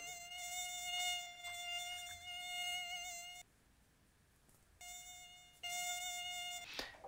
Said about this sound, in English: if you move the mouse, you hear the sound of a mosquito